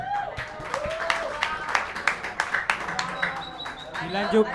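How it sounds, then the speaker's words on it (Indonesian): Scattered clapping comes from a crowd at a school quiz competition final held at a boarding school, irregular claps spread over a few seconds with people talking over them. "Tepuk tangan dulu untuk regu B."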